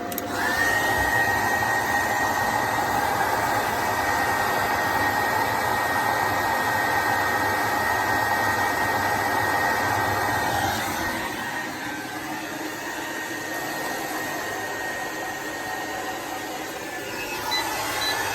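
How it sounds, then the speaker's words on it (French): A loud, steady hair dryer blows with a constant whine, then its pitch and strength drop partway through and it keeps running at a lower setting. "je vais rebrancher le sèche-cheveux"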